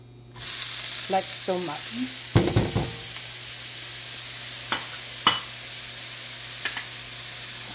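Onions dropped into a hot skillet burst into a loud, steady sizzle, with a few clattering stirs and spatters. A person talks briefly over the start.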